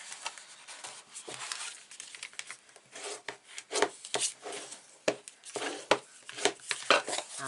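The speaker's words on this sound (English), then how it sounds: "fold your score lines nice and smooth" Scored paper for a wedding album is folded and smoothed by hand. The sound is a quiet, close run of uneven rubbing and crisp paper swipes that come in irregular strokes.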